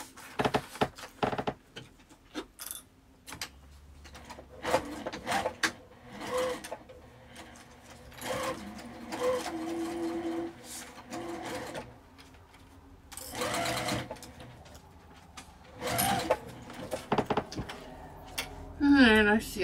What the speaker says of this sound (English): you're going to sew all the way around, leaving the bottom open for turning